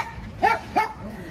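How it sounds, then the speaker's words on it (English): Excited dogs give two quick barks close by in a backyard garden, short sharp yaps a fraction of a second apart with low background noise. "There's the dogs."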